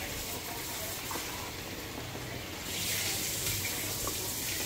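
A kitchen tap runs as shrimp are rinsed, giving a steady hissing stream of water that swells a little louder partway through.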